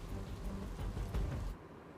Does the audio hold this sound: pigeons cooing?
no